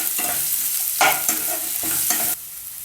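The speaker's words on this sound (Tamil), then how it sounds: "நல்லா வதக்கி விடுங்க." Vegetables with potato, ginger and garlic are sautéed for masala chapathi, with loud close sizzling broken by several distinct bursts of stirring and scraping in the pan before the sizzle drops off near the end.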